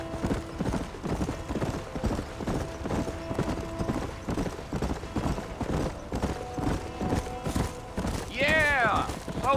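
Horse hooves clip-clopping at a steady gallop in the Western video game Red Dead Redemption, a continuous rhythmic beat with a short whinny near the end, while voices talk over it.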